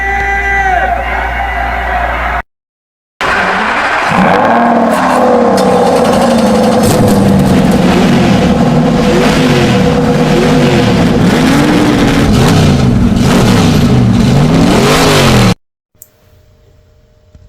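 Drag race cars fire up and accelerate, loud roaring engines with rising and falling revving tones layered over each other, preceded by a short burst of sound and a gap, with crowd noise underneath.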